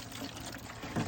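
Water poured by hand into a small test hole in the ground, a brief steady splashing pour that swells louder near the end, fairly close and heard alone.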